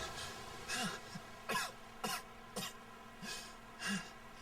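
A character in the Tales of Xillia game coughs repeatedly, about seven short, muffled coughs spaced roughly half a second apart over a faint steady background hum.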